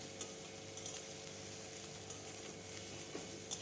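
Pointed gourd peel paste seasoned with salt and turmeric fries over medium heat in a pan, a steady close sizzle with scraping stir strokes throughout, no voices.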